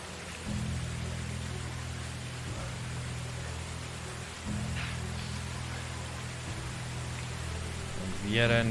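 Rain falls in the video game Medieval Dynasty as a steady, soft hiss throughout, with a low hum underneath and brief clicks and a voice near the end.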